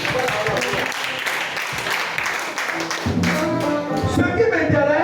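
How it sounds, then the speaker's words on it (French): Church congregation at a charismatic worship gathering applauding loudly and continuously, with dense clapping, crowd voices and cheering mixed in. "Applaudissez très fort le Seigneur de Dieu."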